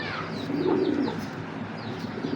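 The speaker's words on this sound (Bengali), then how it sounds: "এই কবুতরটা এক বড় ভাই ধৈরা বিক্রি করছে আমার কাছে" A red-khaki Giribaz pigeon coos softly with a low, throaty burble close by, while faint chirps and other bird sounds come from the background.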